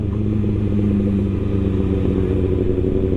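Kawasaki ZX6R motorcycle being ridden, its engine holding a steady, loud, close-up drone for the whole stretch with no voices over it.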